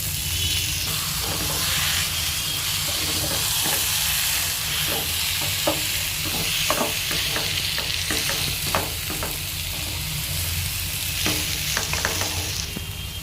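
Banana flower and coconut stirred in a frying pan for mochar ghonto, a spatula scraping in repeated strokes over a steady, fairly loud sizzle, with no talking.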